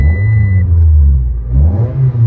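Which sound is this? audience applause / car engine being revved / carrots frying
car engine being revved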